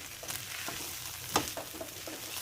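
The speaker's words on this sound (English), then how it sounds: "Stir all your seasonings in." Pork stir fry rice made from leftovers sizzles softly in a pan while seasonings are stirred in, with a steady frying hiss and a few scraping clicks of the utensil.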